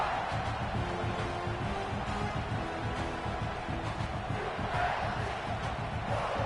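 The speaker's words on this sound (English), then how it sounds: "Look at this crowd packed to the rooftops here on the University of South Carolina" A packed stadium crowd roars without letup in the College Football 26 video game during an Alabama at South Carolina matchup, a dense, loud wash of cheering and chanting with rhythmic pulses and no clear voices on top.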